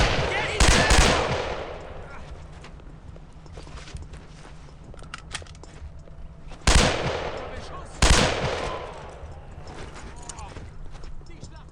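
Gunfire in the World War II shooter Brothers in Arms: Earned in Blood comes as a few sharp, loud blasts spaced several seconds apart over ongoing battle noise, with voices talking throughout.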